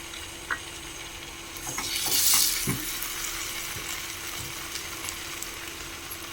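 Tomato paste sizzles and is stirred in a hot pan while cooking a spiced egg curry, a soft steady frying hiss that swells briefly into a louder burst of sizzle, with faint scraping and no talking.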